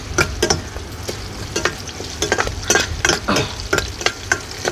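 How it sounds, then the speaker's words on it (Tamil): Crushed garlic and grated coconut mixture sautéing in a pan for kappa biryani, a continuous sizzle broken by irregular scraping and stirring clatters of a spoon against the pan, close and fairly loud. "இது கொஞ்சம் வதங்கட்டும்."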